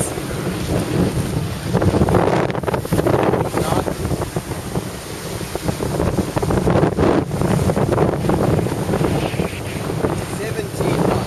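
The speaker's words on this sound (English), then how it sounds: "Sails are looking good and we're at 17 knots. Breezy day." A sailboat running at about 14 to 17 knots in breezy conditions off the New Jersey coast, with steady loud wind buffeting the microphone over rushing water and waves throughout.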